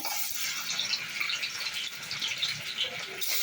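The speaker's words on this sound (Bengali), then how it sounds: "পনিরটা ভাজা বসিয়েছি" Paneer pieces fry in oil in a kadai, a dense, even, close hiss of sizzling that holds steady throughout.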